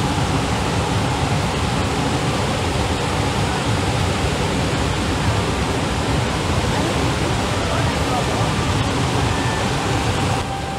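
Glacier Creek rushing just below Alberta Falls in Rocky Mountain National Park, a steady, loud, broadband roar of mountain water that holds unbroken and close for the whole stretch.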